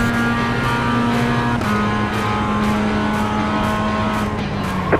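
A Mazda MX-5 Cup race car in iRacing runs at VIR, its engine a loud, sustained drone with steady pitch that steps through gear changes.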